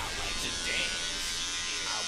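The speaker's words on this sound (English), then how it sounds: "Shave the beard off." An electric razor shaving off a beard gives a steady, faint buzzing drone throughout, with indistinct voices in the background.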